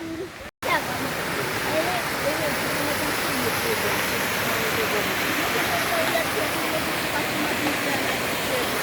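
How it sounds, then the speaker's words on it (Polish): Waterfall where people jump into the water, a constant broadband rush of falling water heard from fairly close, steady throughout after a brief cut near the start. "Idziemy w stronę wodospadu, wodospadu, z którego skaczą ludzie na nogi do wody."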